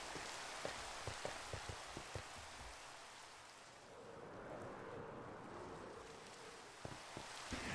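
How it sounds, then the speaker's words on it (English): Rain falls steadily in Minecraft as a continuous soft hiss. Scattered low thumps sound at the start and again near the end. "Uh-oh, it's raining."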